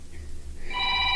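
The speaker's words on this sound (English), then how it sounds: "How about your old man ringtone?" An old-fashioned telephone ringtone starts partway through, a steady bright ringing tone that holds loud and clear to the end after a quieter, muffled opening.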